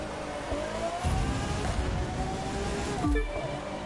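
A Lamborghini Aventador racing in The Crew 2, its engine holding a steady, loud drone with a brief surge in pitch near the middle and another swell toward the end, heard alone without talk.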